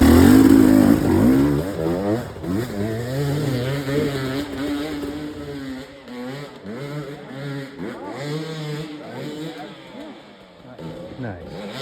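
Hard enduro dirt bike engine revving in gear, a close, rough, rising and falling drone that keeps running throughout, with someone talking over it.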